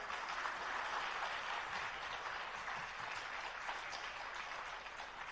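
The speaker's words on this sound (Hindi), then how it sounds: "तो भक्तों बजाओ ताली" Devotees at a Jain religious discourse in Damoh break into steady, sustained applause, a dense wash of many hands clapping together from start to finish with no talk.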